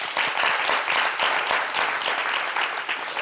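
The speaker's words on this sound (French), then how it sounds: "On applaudit pour elle." A studio audience on a French-language television show applauds a singer, a dense, loud, continuous wash of many hands clapping for over three seconds without a break.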